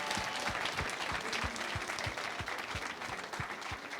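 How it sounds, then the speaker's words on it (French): Dense, steady applause from a live audience at a school slam poetry show, a continuous wash of many hands clapping with no voices, loud and sustained throughout. "on peut l'applaudir très fort"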